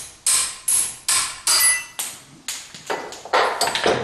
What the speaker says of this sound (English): Taps with the hammer and out she comes.